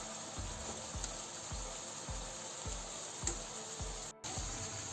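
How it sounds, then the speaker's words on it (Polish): Chicken sizzles in a pan with a constant, fairly quiet hiss, while soft regular knocks repeat about twice a second underneath; the hiss briefly cuts out once near the end. "W międzyczasie jak kurczak się smaży,"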